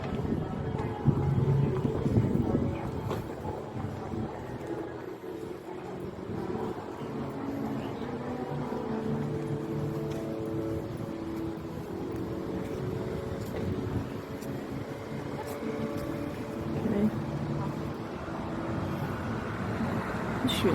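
A large boat waits at a pier in Auckland, New Zealand, about to depart: a steady low engine rumble with harbour and traffic noise runs throughout, with faint background voices.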